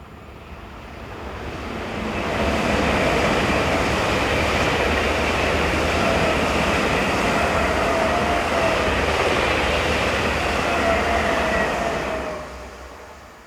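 A Swiss train passes on the Olten to Oensingen main line, its rumble swelling in, holding as a loud rolling rush of wheels on rails for several seconds, then fading away.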